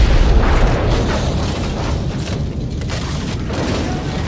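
A grenade explosion in a war setting produces a loud, deep boom that rolls into a sustained heavy rumble, with no voices.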